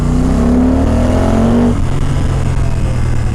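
A new 2025 Honda motorcycle on a test ride in sport mode at an expo accelerates, its engine note loud and close with a steady rising drone that shifts tone partway through, with no talking.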